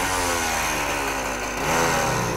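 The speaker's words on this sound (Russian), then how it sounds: "Заводится советский мотоцикл по старинке кикстартером" Soviet Voskhod 3M motorcycle engine running right after a kickstart, a steady close two-stroke buzz that swells slightly as it revs, loud and continuous with no talk.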